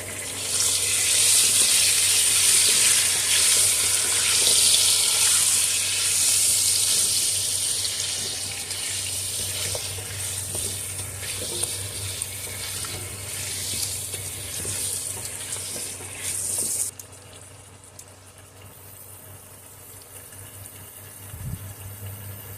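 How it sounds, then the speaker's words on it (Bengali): Potatoes with a little salt are stirred and fried in a pan, giving a loud, steady sizzle with a faint scrape of stirring. The sizzle drops sharply near the end, and no one speaks. "ভালো করে নেড়ে চেড়ে ভেজে নেব"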